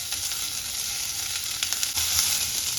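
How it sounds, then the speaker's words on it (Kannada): Chopped onions sizzle steadily in a hot pan while being cooked for bisibele bath, a close, continuous crackling hiss with occasional soft scrapes and no talking. "ಈರುಳ್ಳಿ ಸ್ವಲ್ಪ ಕಲರ್ ಚೇಂಜ್ ಆಗೋವರೆಗೂ ಕೂಡ ಹೀಗೆ ಹುರ್ಕೋತೀನಿ."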